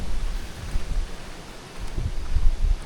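Wind gusting through a forest, a steady broadband rush that swells and eases with low buffeting rumbles, with no talking.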